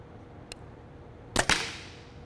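An arrow from a QAD Exodus bow busts through a hollow hard plastic hockey skate into a target: a faint click, then two loud, sharp cracks in quick succession with a brief fading ring.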